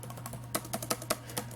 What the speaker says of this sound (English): ThinkPad keyboard, which does feel pretty good to type on.